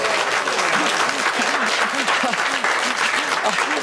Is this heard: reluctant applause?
yes